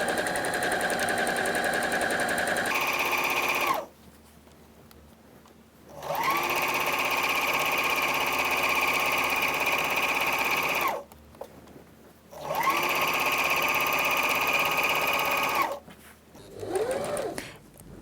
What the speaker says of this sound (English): You backstitch at the end again, and you just follow along the seam allowance.